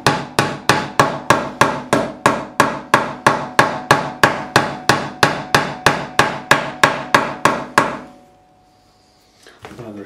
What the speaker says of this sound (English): Now we're going to turn over to the brass side and we're just going to tap in.